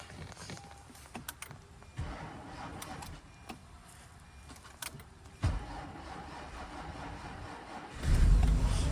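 An Acura car, the high-end Honda brand, being started in freezing cold weather: key and interior clicks, a brief cranking surge, then the engine catching and running louder near the end, close by.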